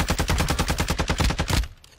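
Rapid automatic gunfire in a video game, a loud, steady burst of about a dozen closely spaced shots lasting over a second and a half before cutting off abruptly, heard alone without talk.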